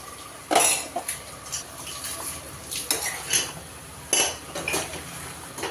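A spoon scrapes and clanks against a metal pot while stirring a tomato mixture for home-style sambar. The sharp scrapes and knocks come in a few separate bursts, close by, with no talking.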